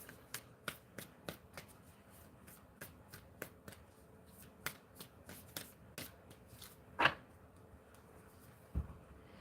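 A deck of tarot cards shuffled by hand, sharp crisp snaps and riffles repeating in an irregular rhythm, close and quiet, with a couple of louder slaps near the end and no speech.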